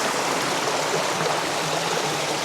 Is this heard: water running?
yes